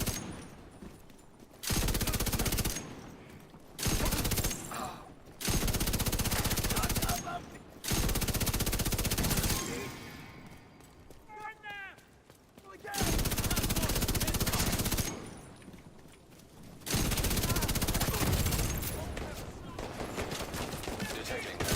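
Video game gunfire comes in repeated loud bursts of rapid automatic shots separated by short pauses, with a brief stretch of quieter in-game sound between volleys.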